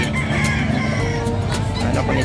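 Many fighting roosters cluck and crow at once at the livestock market in San Carlos City, Pangasinan, a busy, noisy outdoor setting, with traffic faintly in the background.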